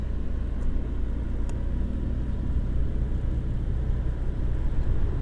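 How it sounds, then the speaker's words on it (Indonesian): A Toyota Avanza with an abnormal engine fault gives off a steady, loud low roar on the road, a continuous rumbling drone without pauses or speech. "Itu ngowos loh Avanzanya"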